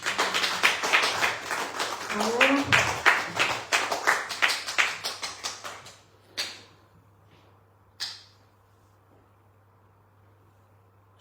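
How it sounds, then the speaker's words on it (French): A church congregation claps for a testimony, a lively burst of dense clapping that thins out and stops around six seconds, followed by a couple of isolated knocks in a quiet room. A voice says a short word early on. "On peut applaudir le témoignage"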